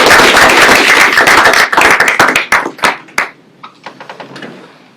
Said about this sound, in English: Another round of applause for Sean.